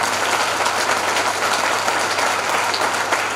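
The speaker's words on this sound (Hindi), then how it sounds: "जोरदार तालियां होनी चाहिए इस काम के लिए।" Steady, dense applause from an audience at an AWPL mega show event in Mirzapur Panchtala, filling the whole stretch at an even, loud level with no talk over it.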